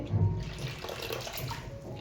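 Water splashes and runs steadily in a kitchen sink while potatoes are washed to rinse away starch. The sound is close, continuous and fairly soft, with small sloshes, and no one speaks.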